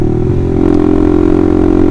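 A Honda CBR150R motorcycle fitted with an Austin Racing aftermarket exhaust drones loudly and steadily up close, its harsh, raspy mid-pitched note holding throughout with a slight rattling edge and no talking.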